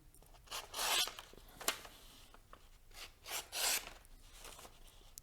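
A Petrified Fish PF720 knife cutting through cardboard in a cutting test, close rasping, scraping strokes in several uneven bursts, fairly quiet.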